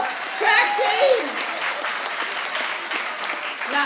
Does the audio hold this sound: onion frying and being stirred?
no